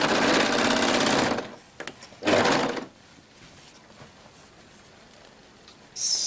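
A sewing machine runs in two bursts while sewing a hoodie, a loud fast whirring stitch run, a pause, then a shorter burst, with quiet handling afterward and a brief start at the end.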